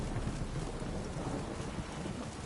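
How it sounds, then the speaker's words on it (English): Heavy rain pours down during a thunderstorm in The Witcher video game, a dense, steady roar of rainfall with low rumbling underneath and no speech. "This downpour's a bastard"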